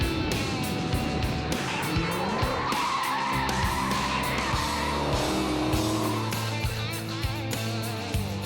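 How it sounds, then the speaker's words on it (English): A Dodge car, such as a Challenger, Charger or Viper, skids on a thrill ride with loud, sustained squealing tires and a revving engine, close and continuous. "The Dodge Thrill Ride display included a white knuckle ride in a Dodge Challenger, a Dodge Charger, or a mighty Dodge Viper"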